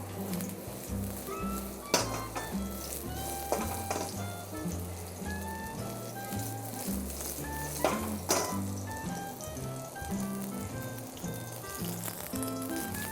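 Shiitake mushrooms stir-fry in a pan for a vegetarian dish with cauliflower and carrot, giving a steady, fairly quiet sizzle with occasional clatters of stirring, no voices.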